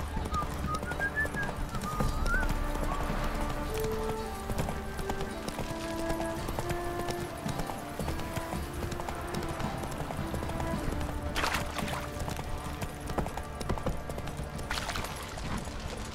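In the video game Witcher 3, the horse Roach gallops with a steady, rhythmic clip-clop of hooves under background music, followed by a brief snort or whinny.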